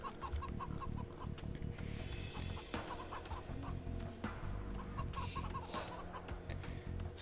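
A goose in Age of Empires gives repeated short honking, clucking calls. The calls sit over low, busy game background noise and are fairly faint.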